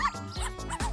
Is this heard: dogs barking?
yes